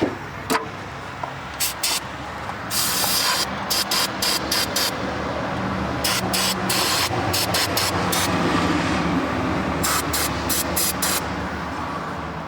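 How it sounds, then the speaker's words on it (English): Repeated short bursts of carb cleaner spraying, several quick hisses in a row over a steady background of engine or mechanical noise. "Let me get some carb cleaner I can spray on there"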